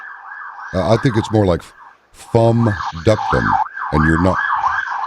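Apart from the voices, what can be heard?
emergency vehicle sirens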